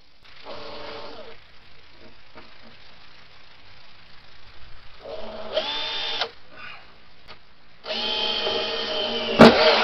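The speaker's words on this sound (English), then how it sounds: "Let me go grab a drill, and we'll put it in there." A power drill with a hole saw whines in three separate bursts, rising as it spins up, with clunks and handling noise between runs; the last burst is the longest and loudest.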